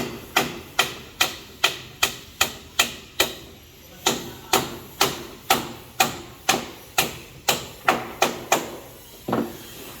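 Sharp, ringing hammer blows strike nails into scaffolding at a steady pace, roughly twenty hits close by with a brief pause midway, at a beach house build in the Philippines.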